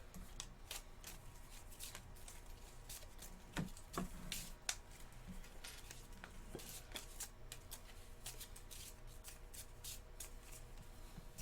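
Keyforge cards being shuffled back into a deck by hand during a card game: soft continuous riffling and rubbing with scattered light flicks and taps, quiet and close, with no talk over it.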